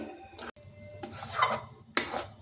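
A utensil stirs and scrapes a banana flower mixture in a pan, giving a few quiet, close rasping strokes with brief gaps between them.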